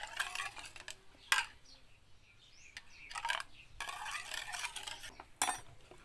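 Shrimp paste (bagoong) being mixed with chili in a bowl, soft scraping and clinking of a utensil in short bursts with pauses, close and fairly faint, with some background bird calls.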